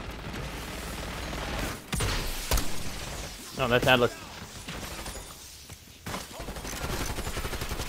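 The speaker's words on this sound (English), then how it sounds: "We're getting shot to shit, guys." Bursts of gunfire and sharp impacts in the video game Call of Duty Black Ops 6, scattered and fairly loud, with a player talking over much of the action.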